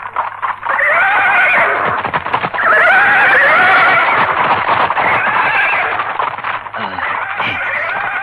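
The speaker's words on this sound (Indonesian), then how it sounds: "Kenapa kuda-kuda jadi ribut?" Several horses whinny loudly and repeatedly in a radio drama, long shrill neighs overlapping one after another, close by, with faint hoof shuffling.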